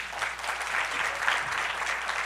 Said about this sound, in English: But please, let's give another round of applause for our phenomenal Sheriff, Sheriff Ed Gonzalez.